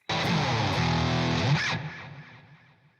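A loud, distorted electric guitar chord through a JMP Pro amp app with reverb and a noise gate rings out, then cuts off sharply, leaving a short reverberant tail that fades away.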